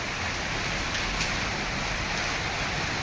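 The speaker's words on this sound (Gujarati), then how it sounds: "બહુ વરસાદ છે અતિશય ગજબ" Heavy rain pours down steadily during an unseasonal summer downpour in Junagadh district, a dense continuous hiss with no pauses and no voices.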